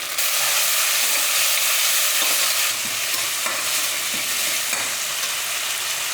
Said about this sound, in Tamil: இது எல்லாமே நல்லா வதங்கிட்டுருக்கு